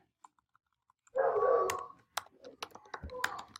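Code is typed on a computer keyboard in a quick burst of clustered key clicks, followed by scattered individual taps, close and fairly quiet.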